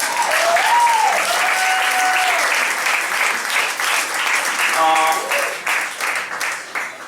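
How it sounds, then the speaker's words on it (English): Loud, close audience applause at a benefit concert, thick continuous clapping with cheers and whoops rising over it, a voice briefly heard partway through, tapering slightly toward the end. "Another round of applause"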